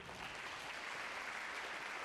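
A performing arts audience applauds steadily, a dense, even wash of many hands clapping at a moderate distance and sustained without a break.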